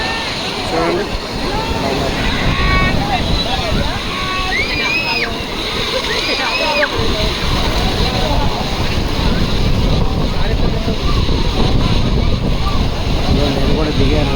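Sea waves on Chennai's Marina beach rush and slosh continuously, loud and close, with wind buffeting the microphone and people's voices mixed into the crowded shoreline.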